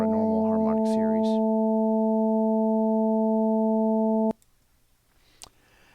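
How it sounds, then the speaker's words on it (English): Steady electronic sine tones stacked as a harmonic series, synthesized in Max/MSP with mc.cycle~, hold evenly for about four seconds under brief speech at the start, then cut off abruptly, leaving faint room noise. "now it sounds like what we expect for a normal harmonic series."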